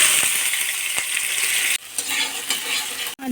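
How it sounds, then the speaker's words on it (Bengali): Potatoes fry in very hot oil in a pan, giving a steady bright sizzle with a couple of soft stirring scrapes. The sizzle pauses briefly twice. Nobody speaks. "তেলে আলুগুলো ছকে নেব"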